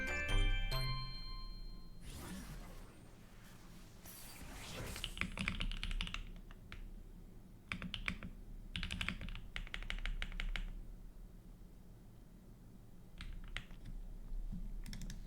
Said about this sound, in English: You can hear the creamy, smooth sound of my keyboard.